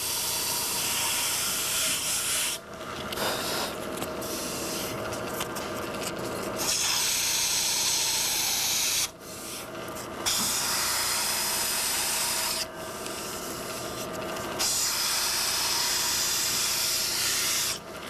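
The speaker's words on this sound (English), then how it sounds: "Take all the excess glue off of that, sand it down a little bit." Steady sanding hiss of a glued workpiece turning on a Q Lathe Model B, a continuous abrasive rasp broken by brief pauses every few seconds, close and fairly loud with no talking.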